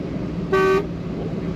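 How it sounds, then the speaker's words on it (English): A single short, loud and clear honk of a 1950 Ford Custom sedan's factory horn sounds once over a low idling engine rumble. "Factory horn is very loud and sounds great, working good"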